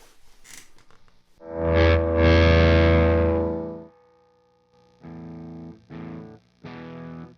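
An electric guitar played through a PRS Sonzera 50 amp head with mild drive: a long sustained chord swelling and fading, then three shorter strummed chords with light grit.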